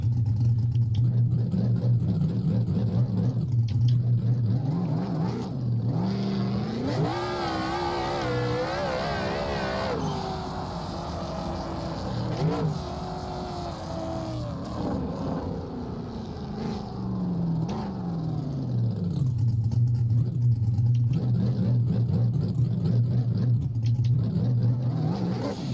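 A car in BeamNG Drive, set up for a 4.7-second street eighth-mile, revs and accelerates hard. Its engine pitch climbs sharply, then settles back to a steady low drone, loud and close with no talk.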